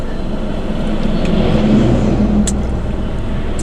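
Steady low rumble of a car idling in stalled road traffic near roadworks, a continuous close engine drone with faint passing vehicle noise, no talk over it.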